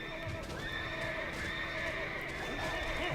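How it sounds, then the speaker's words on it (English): A white horse in World of Warcraft whinnies in drawn-out, wavering calls over steady clip-clopping hooves while being ridden, moderately loud with no voices over it. "me riding with this buff, topless guy on the back of my white horse"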